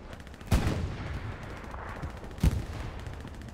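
Two heavy booming tank-cannon blasts land about two seconds apart amid a steady crackle of gunfire in Hell Let Loose, a World War II shooter match in a winter setting, with no voices.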